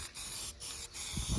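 Spray-on truck bed liner hisses from a spray gun on a third coat, close and steady with short pauses between passes.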